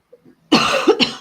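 A single harsh, close cough with a couple of quick bursts, preceded by a faint breath.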